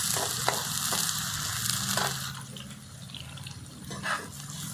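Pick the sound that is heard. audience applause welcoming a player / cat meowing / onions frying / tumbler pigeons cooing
onions frying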